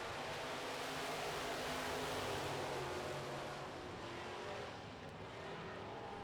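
Midwest Modified race cars roar through a heat race, a dense, steady wall of engine noise holding loud throughout without a break.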